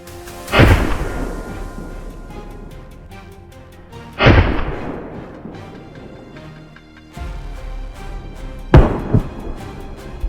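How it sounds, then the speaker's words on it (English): Gunshots ring out during a wild boar hunt in a forest: three loud, booming reports spaced a few seconds apart, each followed by a long echoing rumble, with no talking. "a volley of gunshots rang out"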